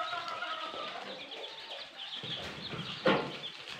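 Rhode Island Red chicks on their first day at a poultry farm, peeping and clucking softly and continuously at close range, with one brief louder chirp near the end.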